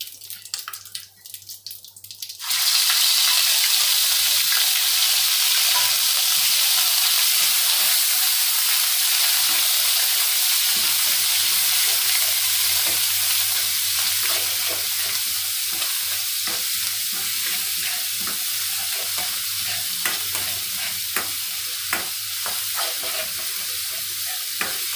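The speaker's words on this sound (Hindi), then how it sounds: "फिर मैं डालूँगी इसमें ये अदरक और लहसुन का पेस्ट।" Ginger garlic paste hits hot oil with cumin seeds for a white chickpea curry, bursting into a loud, steady sizzle after a quiet opening couple of seconds and frying on with faint crackles, no talking.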